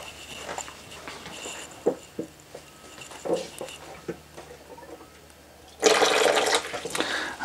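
Water rushes loudly from the hot-side outlet of a Floe drain-down system in a holiday home, starting suddenly after quieter handling noises and continuing as a steady close gush.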